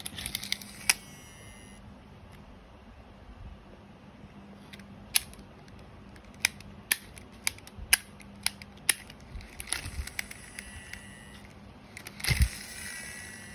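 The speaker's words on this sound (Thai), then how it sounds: "เสียงดีซียังปกติอยู่นะระบบหน่วงปกติครับ" Rapid mechanical clicking and whirring of a used Shimano Curado DC 151 HG baitcasting reel spun by hand, in short bursts with small sharp ticks, close up and fairly quiet.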